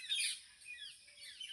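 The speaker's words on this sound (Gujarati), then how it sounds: "તલાવ ઘણું મોટું છે પક્ષી કેટલા કિલોલ કરે" Birds chirping and tweeting beside a large lake by a garden, faint high calls repeating irregularly from a distance with no talk.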